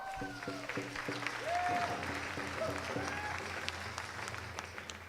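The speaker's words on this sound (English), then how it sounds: "please give her another round of applause" Applause from an audience at an Indigenous Peoples' Day celebration at City Hall fills the clip, steady clapping with a low musical hum or tone running underneath throughout.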